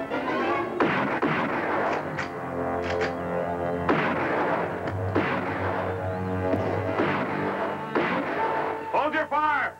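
Repeated heavy gunfire blasts echo at intervals amid shouting voices and dramatic background music in a tense standoff scene.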